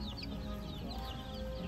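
Egg-laying hens on a farm cluck softly and steadily at moderate distance. Scattered high bird chirps sit over a constant outdoor background hum.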